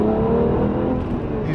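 A turbocharged BMW 1M accelerates on a public road, its engine note a steady, insulated rising drone heard from inside the cabin, fairly loud and continuous.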